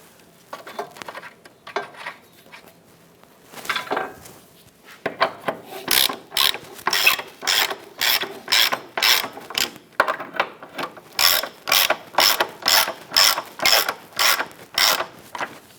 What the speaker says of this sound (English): We'll tighten down the rear subframe bushings first.